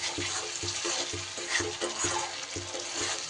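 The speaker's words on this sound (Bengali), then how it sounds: "গ্যাস কমিয়ে রেখে কিন্তু এইভাবে আমাকে আস্তে আস্তে মশলাটা কষিয়ে নিতে হবে" Masala spices fry in oil over low heat for a Katla fish curry, a steady loud sizzle broken by regular rhythmic scraping strokes of a spoon stirring the pan.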